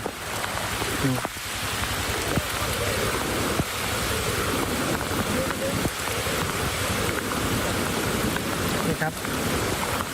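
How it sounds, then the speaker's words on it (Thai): Heavy rain pours down steadily on a forest during a police patrol in Region 8, a dense continuous hiss with a few knocks and faint voices underneath. "ไปเจอกับฝนถล่มก่อนเลย ดูนะฮะ ฟังนะฮะ"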